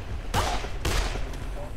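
Gunfire from the zombie video game Dead Island: two loud, sharp bursts of shots about half a second apart, followed by a fainter third, over a low game background.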